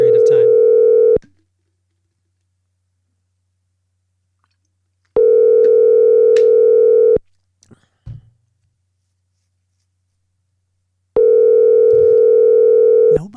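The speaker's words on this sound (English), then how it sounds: "Nobody's answering the phone this morning." A telephone call goes unanswered, heard as a long steady ringback tone of about two seconds every few seconds, three times in all. The line is otherwise silent between rings, apart from a brief faint noise.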